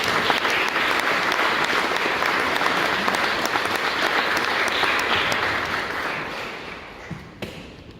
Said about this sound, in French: Vous pouvez applaudir quand je dis le nom.